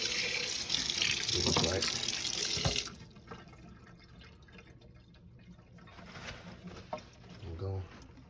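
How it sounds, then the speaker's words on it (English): Tap water runs loudly over raw chicken for a quick rinse, a steady splashing stream that cuts off after about three seconds, leaving faint drips and quiet room sound while a voice speaks briefly. "quick little rinse off."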